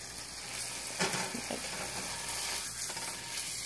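A turkey burger patty fries in a pan with a little salt, giving a steady, close hiss and sizzle with a few soft scraping and sliding sounds as the patty is pushed around.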